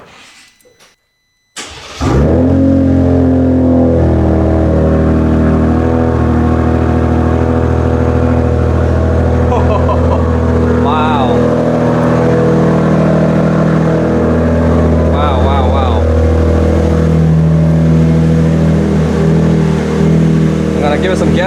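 A 2025 Ram Rebel pickup with an aFe Vulcan exhaust starts up with a loud bark and settles into a deep, steady rumbling idle with occasional light revs, close by and continuous, under some talk.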